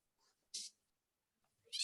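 Cats fighting, heard as two short, faint yowls separated by a stretch of near silence.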